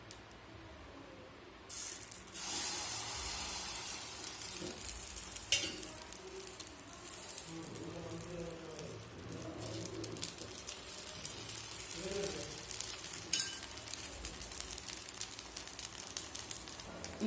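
Rava uttapam batter sizzling on a covered pan, a steady, moderate hiss and crackle with a few sharper ticks, while a pigeon or dove coos softly in the background.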